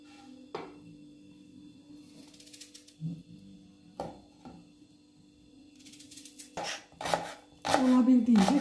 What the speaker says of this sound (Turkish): Olabildiğince küçük doğrayacağım dostlar soğanlarımızı.